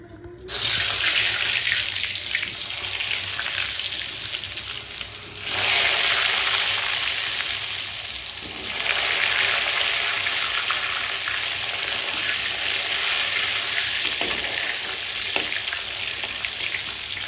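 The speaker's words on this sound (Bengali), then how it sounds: "তেল গরম হয়ে গেছে, আলুগুলো ভেজে নেবো।" Potatoes fry in hot oil in a wok for a mutton curry, producing a loud, dense, hissing sizzle that runs steadily with a couple of brief surges in intensity. No voices.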